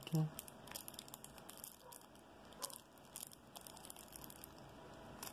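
Plastic wrapping on a Yu-Gi-Oh Egyptian Gods Obelisk the Tormentor structure deck crinkles and crackles as it is pried open, steady close rustling with sharp crunchy spikes, faint and quiet, with a voice speaking at moments.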